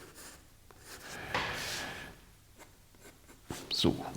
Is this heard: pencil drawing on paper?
yes